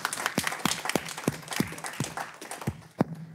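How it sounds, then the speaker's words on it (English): A single person claps hands in a steady rhythm close to a speaker's microphone at a tech talk, the claps sharp and prominent over a faint room murmur. "Guess I know my mic's on when I clap and I can hear it."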